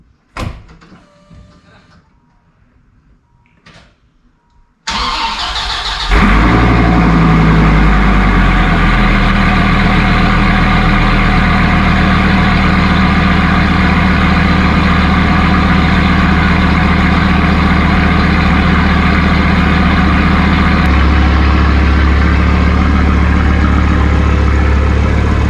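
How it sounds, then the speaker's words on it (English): Cold start of an engine-swapped Dodge car: quiet shuffling and clicks lead into the engine catching with a loud burst, then a steady, heavy idle drones on close to the mic for about twenty seconds. "we're gonna give this thing a quick cold start"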